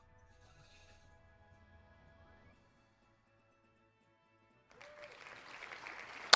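A burst of applause sound effect triggers on a stream's pirate-game challenge wheel. It rises suddenly after near silence and soft tones, then swells toward the end.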